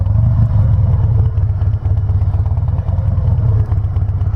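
A Harley-Davidson Softail motorcycle idling at a traffic light in summer heat, its close, steady low rumble pulsing evenly with no talking over it.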